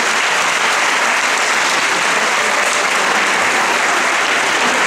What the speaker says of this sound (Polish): Witamy oklaskami wykonawcę.